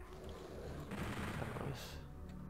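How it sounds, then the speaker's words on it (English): Chain gun fire at lost souls in Doom 64, a faint burst of rapid shots swelling over about a second amid low game ambience. "Speaking of chain gun, we'll get it out now and take all these lost souls down here."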